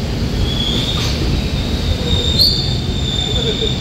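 The Digha to Dakhineswar special train arrives at a station with a loud, constant rumble of wagons and a thin, sustained high wheel squeal running throughout, close by.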